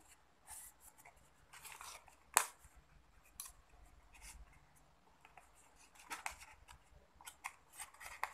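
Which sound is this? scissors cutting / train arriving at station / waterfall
scissors cutting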